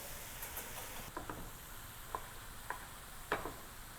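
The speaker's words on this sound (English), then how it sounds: "In go the noodles and start tossing." Yakisoba noodles toss in a hot pan with a steady, quiet sizzle and scattered light clicks and taps from utensils, close and faint, with no talking.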